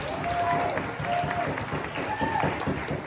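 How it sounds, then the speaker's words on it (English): Applause and crowd noise from the audience at a Nerd Nite lecture evening, a steady, dense wash of clapping and cheering that lasts about three seconds with a few faint tones and voices mixed in. "can we get a huge round of applause for our organizers tonight?"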